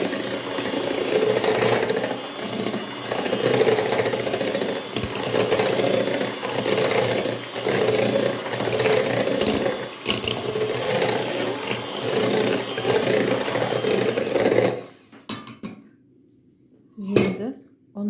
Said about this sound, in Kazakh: Миксерлеп аламыз.